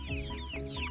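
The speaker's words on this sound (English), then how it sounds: "These are my Red Ranger boiler chickens." Red Ranger broiler chickens give a brief burst of soft clucks and chirpy calls, close by and overlapping, in a short moment with no talk.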